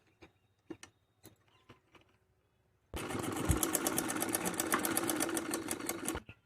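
A sewing machine stitches pleats on a salwar belt: a few isolated clicks, then a steady, fast mechanical whirr of stitching runs close and loud for several seconds before stopping.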